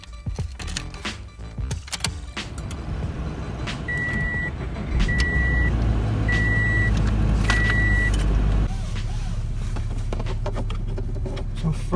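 A 2017 Toyota 86 sports car starts up: four short chimes, then the starter and the engine catching into a loud idle that steadies and settles, with a faint power window hum early on.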